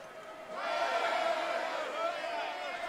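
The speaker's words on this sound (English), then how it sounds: "They're cheering" A Spartan crowd in Assassin's Creed Odyssey cheers and roars in a sustained, swelling wall of voices, rising suddenly after a quiet start and holding steady at moderate loudness.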